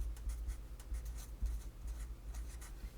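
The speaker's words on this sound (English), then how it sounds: "sorry for all this messy writing" A marker or chalk being written across a board during a chemistry lesson on molecular geometry, with short scratchy strokes repeating in quick irregular bursts, close and quiet, with no talking.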